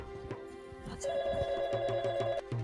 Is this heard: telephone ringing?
yes